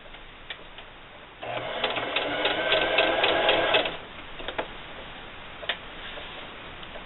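A sewing machine stitches around a fabric bunny, a fast steady mechanical whir for a couple of seconds between quieter pauses with a few isolated ticks, close and clear.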